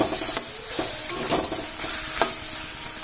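Vegetable stalks sautéing with mustard paste in a pan give a steady broadband sizzle, with a few short scraping stirs of a spoon against the metal, close and alone.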